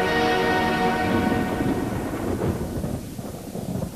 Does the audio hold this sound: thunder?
yes